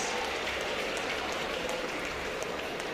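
Sustained, even applause from the audience at a 40th independence gala for St. Kitts and Nevis, a dense wash of clapping that stays steady and fairly loud throughout with no voices over it.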